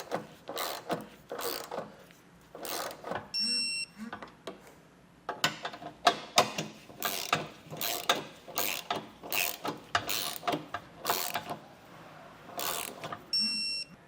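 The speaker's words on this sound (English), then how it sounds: "come back with a torque wrench and completely tighten down all of the hardware" A ratchet-style torque wrench tightens hitch hardware under a 2017 Volkswagen during an EcoHitch hidden trailer hitch install, with bursts of rapid clicking in irregular runs and brief pauses between pulls.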